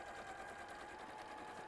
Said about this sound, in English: So just top stitch along there to make it stay.